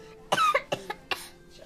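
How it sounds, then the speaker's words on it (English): A person coughs several times in quick succession, a harsh, close burst followed by two or three smaller hacking coughs, loud and near with no talking. "That's a pretty bad cough you have there."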